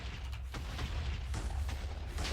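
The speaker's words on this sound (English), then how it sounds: "we run backwards so we don't get hit by the explosion" Wither spawning explosion in Minecraft, a deep booming blast with sharp crackling bursts over a constant low rumble, fairly quiet and without talk.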